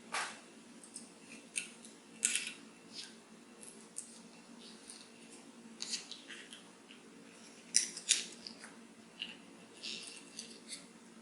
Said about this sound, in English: You cut the foil all the way and then remove it.